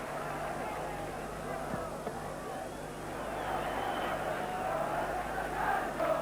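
Crowd noise from a football match between St Mirren and Rangers, heard as a steady distant roar with a broad wash of voices that rises slightly toward the end.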